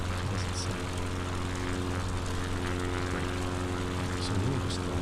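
A steady propeller aircraft engine drones in a flight video game, a loud continuous buzzing hum with a rich low tone that holds throughout, while faint speech is mixed in beneath it.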